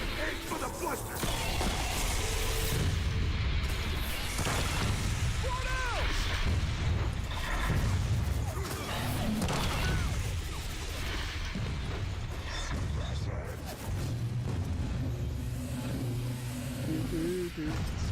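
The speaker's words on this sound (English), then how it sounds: "now we shoot the cord! Open fire!" Continuous heavy gunfire and booming blasts aimed at a blister enemy in Gears of War 4, dense and loud throughout with rumbling low end and shouted voices over the barrage.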